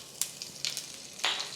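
Tempering in hot oil with mustard seeds, cumin, hing and curry leaves, giving soft sizzling with three sharp crackling pops as the seeds burst.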